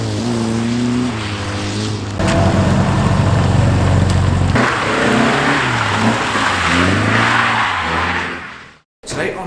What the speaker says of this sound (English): one of the most entertaining cars to watch today was this Austin 40 Farina